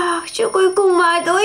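An alarm clock in the video game Avatar World rings with a steady, bright electronic tone, loud and close, while someone talks over it.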